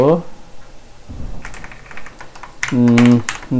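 Keys tapped on a computer keyboard while entering code to calculate a circle's area, a few scattered clicks close by, with a voice speaking briefly near the end.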